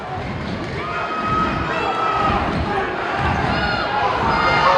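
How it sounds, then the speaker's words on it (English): Fans in a crowded gym cheer for defense during a boys' high school basketball game, a loud sustained crowd roar with shouting voices and balls bouncing underneath. "And the English fans starting to cheer for defense"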